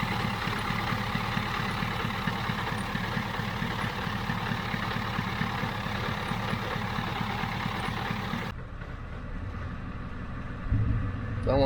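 A Ford 7.3 IDI diesel engine runs in a dually truck, a steady low clattering idle held for several seconds before it cuts off abruptly, leaving quiet background noise.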